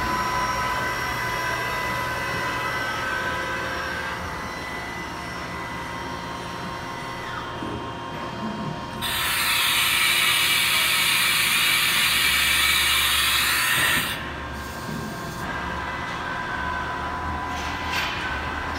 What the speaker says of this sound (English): Spindle sounds nice and smooth.